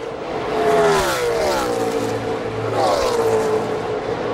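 NASCAR Camping World Truck Series trucks racing at Kentucky Speedway: a steady high engine roar with wavering, rising and falling pitches as trucks pass, heard continuously at a moderate distance beneath race commentary.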